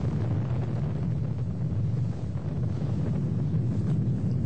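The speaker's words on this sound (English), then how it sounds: "And we have liftoff of an ILS Proton rocket from the Baikonur Cosmodrome in Kazakhstan with a DirecTV-12 communication satellite on board" An ILS Proton-M rocket lifts off from the Baikonur Cosmodrome in Kazakhstan, a continuous, loud, broadband rumbling roar with heavy low end and buffeting noise, sustained and unbroken across the whole stretch.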